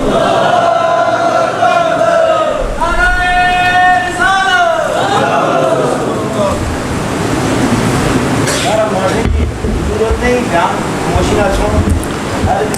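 At a religious gathering, a large crowd chants a slogan in loud unison, with sustained voiced calls rising and falling. A roaring crowd wash follows and lingers until the end.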